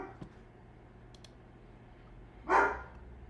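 One short, fairly loud bark from a dog called Winnie in a quiet indoor room, preceded by a few faint clicks.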